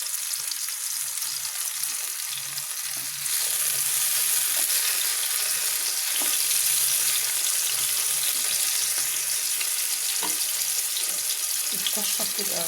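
Garlic and dried coriander fry in hot fat for a molokhia topping, giving a steady, close, bright sizzle that swells louder after the first few seconds and holds constant.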